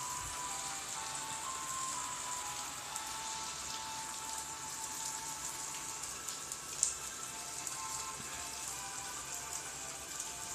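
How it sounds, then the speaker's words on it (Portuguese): Steady rain falling outside at night after a thunderstorm has calmed, a continuous even hiss of drops on surfaces at moderate distance, with no talk. "Tá chovendo aqui agora. Por enquanto só tá chuva."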